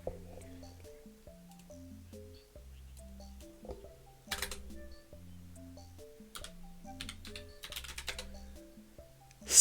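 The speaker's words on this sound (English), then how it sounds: "Let's just type it in." Quiet, rapid typing on a computer keyboard, a stream of light clicks and taps with a couple of louder key strikes, close and alone with no talk.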